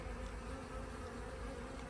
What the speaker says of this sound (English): They're just robber bees.